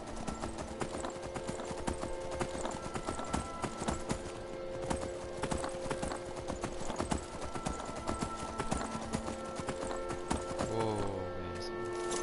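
Horse hooves clip-clop steadily in Skyrim, a fast, even trotting rhythm close and loud over a continuous game music bed, with the hoofbeats slowing toward the end.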